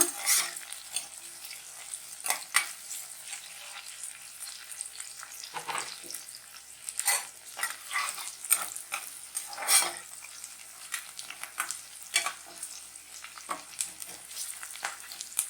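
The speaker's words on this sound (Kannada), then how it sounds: "ಈಗ ನಾವು ಸ್ವಲ್ಪ ಇದಕ್ಕೆ ಕರಿಬೇವು ಹಾಕೋಣ. ಇದು ಚೆನ್ನಾಗಿ ಫ್ರೈ ಮಾಡ್ಕೊಳ್ಳೋಣ." Onions and curry leaves fry in a pan for chicken gravy, a steady hiss broken by repeated scraping stirs and a few louder clanks of the utensil, with no voices.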